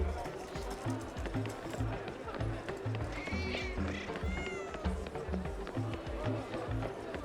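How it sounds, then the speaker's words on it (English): Several meows from cats in the video game Dordogne rise briefly over game background music and a talking voice, with short cries clustered in the middle of the clip. "Are there cats? Can I pet them?"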